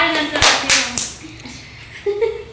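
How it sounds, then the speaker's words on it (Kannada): A few people clap at a birthday surprise gathering: several sharp hand claps close by, in a loose burst, followed by a couple of quieter scattered claps and brief talking. "ಹೊಡೀರಿ ಚಪ್ಪಾಳೆ"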